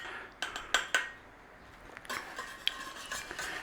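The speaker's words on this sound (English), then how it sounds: "Nice little stirring." Spoon stirring chicken cordon bleu casserole ingredients with pepper, garlic powder and Dijon in a casserole pan on a stove flame: a few sharp clinks against the pan early on, a quiet pause, then softer scraping and tapping.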